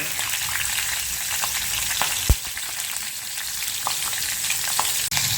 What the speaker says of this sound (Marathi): थोडे अजून जिरे टाकूयात आता मिरचीचे काप टाकूयात